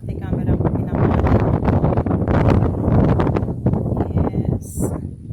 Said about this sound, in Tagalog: Lakas ng hangin, pati camera ko pinamahal.